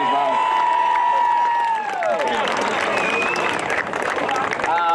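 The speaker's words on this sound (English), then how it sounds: "I think he deserves a round of applause as well." Crowd cheering and clapping at a 2022 Mulwala seniors grand final presentation, a loud mix of shouts, whistles and applause with voices raised throughout.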